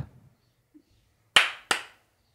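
Two sharp hand claps sound close together and loud, the second about a third of a second after the first, with near silence around them.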